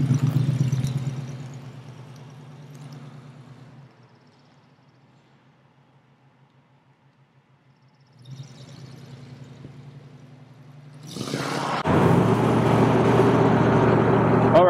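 A 1932 Ford Roadster gets onto a freeway heading north on I-5, its old engine rumbling and fading, then picking up again before wind and road noise suddenly swell loud as speed builds.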